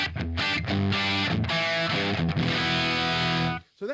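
Electric guitar played through a prototype amp with crunchy channel dirt and a Barber Direct Drive booster: loud, thick distorted chords ring and sustain for several seconds, then cut off abruptly near the end.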